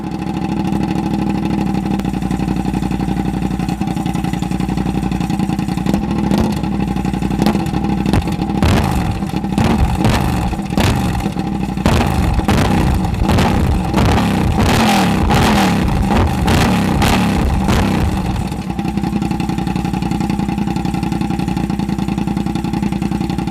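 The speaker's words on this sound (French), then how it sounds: "c'est monstrueux en échappement libre" A 2020 Yamaha motorcycle running with an open exhaust, loud and close, idling roughly and then blipped through a burst of sharp repeated revs before settling back to a steady idle.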